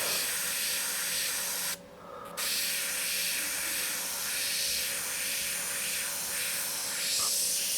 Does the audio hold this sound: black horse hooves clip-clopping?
no